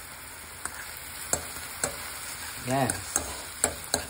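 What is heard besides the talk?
steakums frying in a pan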